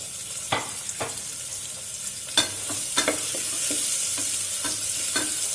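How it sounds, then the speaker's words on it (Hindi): Onion frying in oil in a pan for daal chawal, a constant soft sizzle broken by a series of spoon clinks and scrapes as it is stirred, heard up close. "प्याज को थोड़ा सा जो है वो फ्राई करेंगे"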